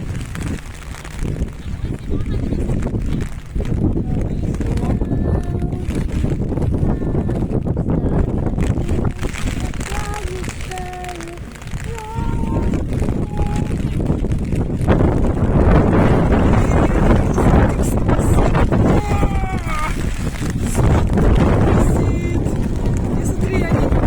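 Strong wind gusts over open water around kayaks on a rainy day near Dublin, Ireland, a steady loud roar buffeting the microphone throughout, with people calling out and talking over it.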